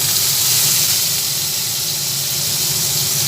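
Onions hit hot oil in a wok with a loud, steady, hissing sizzle that runs continuously at close range.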